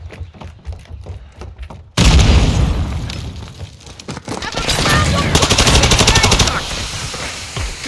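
A loud grenade blast in Call of Duty Modern Warfare 2 Team Deathmatch on the Valderas Museum map bursts in after a quieter stretch, followed by sustained rapid gunfire and further booms that stay close and heavy.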